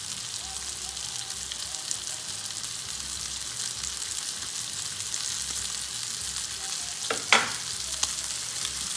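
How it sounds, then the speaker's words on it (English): Beef searing in a pan on the stove for ropa vieja, a steady close hiss and crackle of frying fat that holds throughout with a few brief scrapes and clinks near the end. "Okay, so we seared off the beef"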